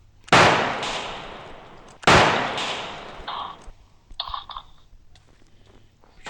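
Two sharp, loud gunshot blasts in a video game, from an automatic sniper rifle, a couple of seconds apart, each with a booming echo, followed by quieter clicks and mechanical rattles.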